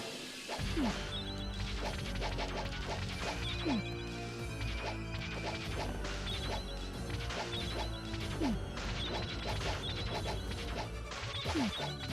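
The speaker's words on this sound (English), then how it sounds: "But he shatters the glass." In Castlevania Chronicles, holy water glass bottles shatter again and again with sharp crashes, layered over continuous game music and repeated metallic hits throughout.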